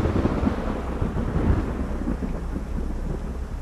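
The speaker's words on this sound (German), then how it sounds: "Die mag bestimmt kein Gewitter" Thunderstorm in the video game Supernormal, a steady low rumble of thunder with rain and wind, loud and continuous throughout without talk.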